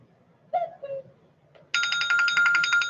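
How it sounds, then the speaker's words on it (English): A phone notification ringtone chimes in a bright, steady pattern during a birdhouse and beadwork session, starting abruptly after a few faint handling noises and short vocal sounds, then continuing loud through the end. "Phone is always telling me something."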